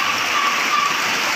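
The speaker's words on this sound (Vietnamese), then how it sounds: "Mưa dữ thiệt chứ, mưa nguyên ngày," Heavy rain pours down in a steady, dense hiss that holds evenly throughout, close and loud, with no voices.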